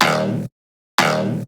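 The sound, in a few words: EDM drum fill ending in a sweep effect, FL Studio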